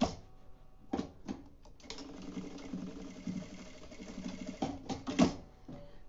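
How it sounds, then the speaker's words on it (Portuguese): A sewing machine runs a straight seam on a small fabric wallet, giving quick rattling clicks and a faint whirring motor in short bursts and a longer steady run, with a few sharp taps, close and quiet, no talk. "E vou passar a costurinha reta aqui."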